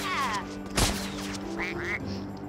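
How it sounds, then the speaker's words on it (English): Howard the Duck quacks in the Lego Marvel Super Heroes video game, a couple of short nasal quacks over steady game music and effects. "Howard the Duck here."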